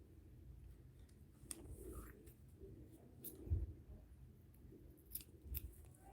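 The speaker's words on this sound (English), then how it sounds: "grab my scissors" Scissors snip crochet yarn at close range, a few soft, quiet cuts with small peaks against a faint background hiss.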